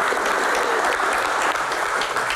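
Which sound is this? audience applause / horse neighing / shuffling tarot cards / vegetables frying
audience applause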